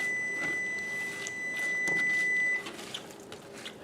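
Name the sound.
oven beeping to signal it has preheated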